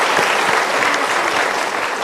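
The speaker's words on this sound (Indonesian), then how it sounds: "kita berikan tepuk tangan untuk polisinya" A large seminar audience in Indonesia gives loud, sustained applause for a policeman, a thick, continuous roar of many hands clapping close by with no one talking.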